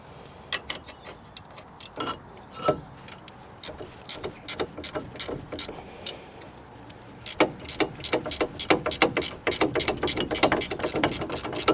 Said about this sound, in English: get the power ratchet on the bottom one